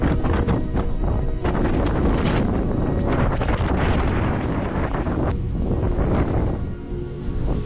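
Strong wind gusting around 50 mph roars steadily across an open, snow-buried winter campsite, buffeting the microphone with loud, continuous broadband rumble that swells and dips slightly throughout.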